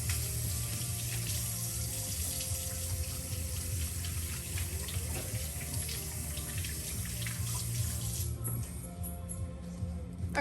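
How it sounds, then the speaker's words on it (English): A kitchen faucet runs steadily while hands are washed beneath it, a continuous splashing water stream with small variations, fairly close, ending with a slight change near the finish. "I'm gonna wash my hands."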